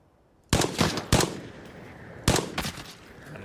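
SMG fire in the shooter game Arena Breakout Infinite, aimed at a scav: loud, close bursts of automatic gunfire, two quick bursts followed by a pause and then two more bursts, with no talking.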